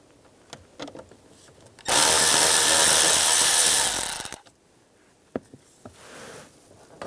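A power screwdriver runs for about two seconds to back screws out of an interior panel on a 1998–2010 Volkswagen Beetle. A steady, loud whir is framed by quieter clicks and handling noises before and after.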